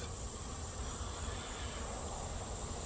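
Honey bees flying around a hive entrance while a virgin queen prepares to leave for mating, a dense continuous buzzing swarm hum, steady and close, with no talk.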